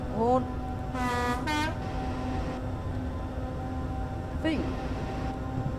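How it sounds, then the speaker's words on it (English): Horn of a Class 317 electric multiple unit in Train Simulator 2016 on the Mayflower Line, two short tones sounded in quick succession and then a third brief blast, clear over a steady cab hum. "Oh, horn."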